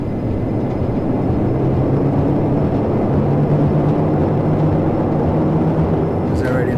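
A simulated Q400 turboprop roars loud and steady through its landing rollout with reverse thrust applied, a constant broadband engine drone with no talk.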